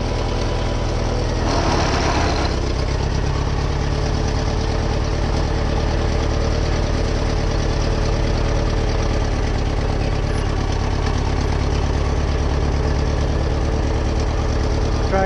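Tractor engine running in second gear while heading to a field for plowing: a loud, steady, low mechanical chug that goes on throughout, with a short rattling clatter near the start.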